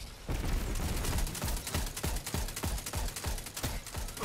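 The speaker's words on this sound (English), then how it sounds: "Not the best shooting here." Rapid gunfire from a first-person shooter in a Destiny 2 PvP Crucible match, a steady run of sharp, evenly spaced shots lasting several seconds at close range, loud and with no talking over it.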